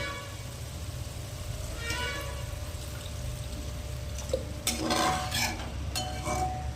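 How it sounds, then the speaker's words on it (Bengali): Water poured into a pot of cooking dal makes a steady close rushing wash, followed near the end by a few metallic clinks of utensils. "এবার পরিমাণ মতো জল দিয়ে দিচ্ছে।"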